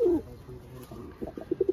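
Pigeons for sale coo in a short series of soft, low, throaty pulses, fairly close, with a brief louder call at the start and rhythmic coos toward the end.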